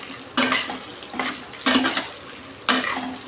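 Okra sautés in hot oil for a Marathi bhendi rassa, with a steady close sizzle broken by three loud scraping stir strokes of a spoon against the pan, evenly spaced.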